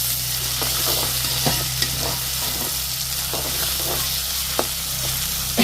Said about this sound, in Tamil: இது கொஞ்சம் வெந்தயம் போட்டானு நல்லா பொரியட்டுமே.